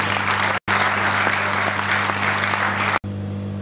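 An audience applauds after a thesis defence on the right to democratic elections. The clapping is dense and sustained for about three seconds, with a brief cut and a quieter tail.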